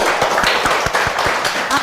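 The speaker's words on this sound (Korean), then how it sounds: "박수 한번 주십시오." A short burst of applause at a lecture gathering, steady overlapping claps from a small group, fairly close, with a voice mixed in.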